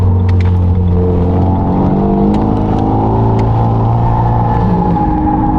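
A Renault Megane 3 RS with a dump valve revs loudly and continuously up close, its engine drone rising and falling, with brief sharp hissing bursts standing out over the rumble.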